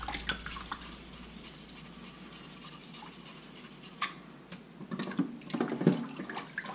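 Water splashes and sloshes in a sink during straight razor sharpening on a stone, with quiet scraping beneath and a cluster of louder splashes near the end, no voices.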